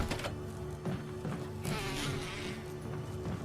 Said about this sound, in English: Like, look at these frickin' bees,